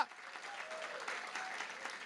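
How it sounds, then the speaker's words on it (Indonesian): Congregation applause during a church service: a steady, dense wash of clapping from many hands, sustained at an even level throughout, with a faint voice carrying over it. "Tepuk tangan buat Allah kita, haleluya."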